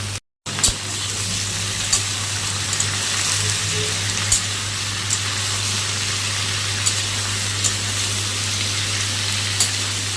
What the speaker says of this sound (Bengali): লবণ হলুদ দিয়ে ভালো করে ভেজে নেব পেঁপেটাকে।